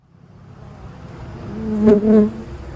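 Honey bees buzz around a hive, the drone swelling as one bee passes close by and then fading back into the hum of the colony.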